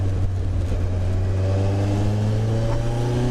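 A car fitted with a Hayabusa motorcycle engine drives along, its steady engine drone loud and close with a strong low hum and layered harmonics throughout, no talking.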